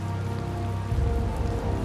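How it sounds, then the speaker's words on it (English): Steady rain falls in the game Tales of Vesperia, a dense, even patter of drops over a low ambient rumble, with no voices. "It's raining after all."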